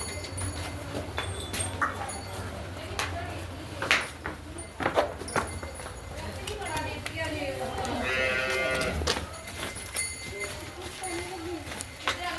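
Livestock sounds in a farmyard with a buffalo and calf, a low moo and animal shuffling, mixed with people talking nearby and occasional knocks.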